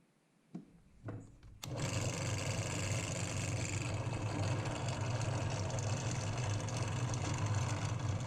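A drill with a small pilot bit starts boring a 5/16-inch spring-guide hole for a homemade reusable airsoft grenade, after a couple of soft knocks. It then whirs steadily and close for several seconds.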